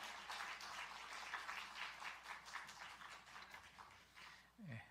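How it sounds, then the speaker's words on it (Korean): A church congregation in Suwon applauds to welcome a missionary, a faint, dense wash of many hands clapping that fills the room from start to finish. "나오실 때 큰 박수로 환영하겠습니다."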